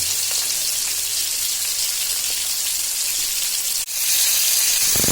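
Chicken pieces fry in a pan with a loud, dense, continuous sizzle that crackles up close, briefly dipping for an instant before resuming just as strong, with no talking.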